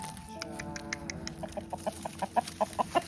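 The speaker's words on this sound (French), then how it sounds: "Et les poules, on dit quoi?" Backyard hens cluck in a quick, rhythmic series of short clucks that grow louder and more regular, close by over soft outdoor background noise.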